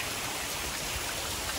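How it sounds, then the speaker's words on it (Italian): Water streams down a rock wall beside a waterfall in Madeira, a steady, even wash of rushing, splashing water with no breaks, moderately close and fairly quiet. "Guardate questa parete, c'è acqua da tutte le parti"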